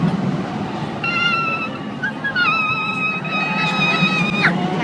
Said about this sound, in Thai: เป็นรถไฟเหาะรางไม้ค่ะ